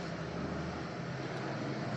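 A steady, broadband roar of airplane engines fills the cabin during flight, a constant dense drone with no breaks or distinct events.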